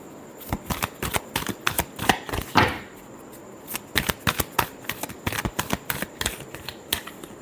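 A deck of tarot cards is shuffled close by in quick, rapid riffles and flicks that keep a steady crisp rhythm, with a short pause partway through.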